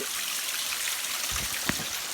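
Spring water pours steadily from a pipe coming out of a mountainside after a landslip, a continuous close splashing rush with one brief knock partway through.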